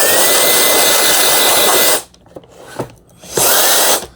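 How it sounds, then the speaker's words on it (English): A USB-C rechargeable cordless blower cleans out robot vacuum parts, roaring loud and steady for two seconds, then cutting out and returning in a short burst after brief clicks and handling noises. "This blower works great. It charges with USB-C."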